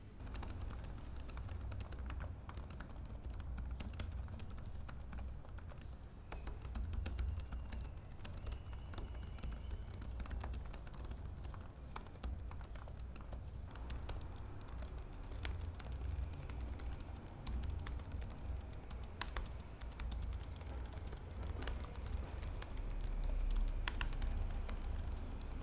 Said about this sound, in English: When listening to the typing test with the two laptops, you can hear that the Yoga Slim 7i Pro actually has a bit of a clickier feedback in the keys.